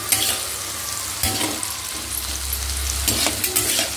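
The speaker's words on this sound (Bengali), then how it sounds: "দেখো এখানে চলছে এখন আলু ভাজা।" Medium-thick cut potatoes fry in a pan with a steady, close sizzle, joined by a few stirring scrapes and clatters, with no voices.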